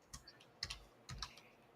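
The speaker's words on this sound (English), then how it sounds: "I was typing." Several quiet keystrokes on a computer keyboard, tapped in small clusters of two or three clicks with short pauses between them, close and soft with no talking.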